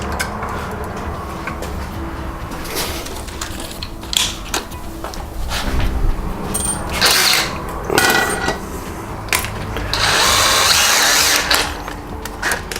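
A power drill with a small drill bit runs in short whirring bursts separated by pauses, with clicks and creaks, while fitting roller blinds.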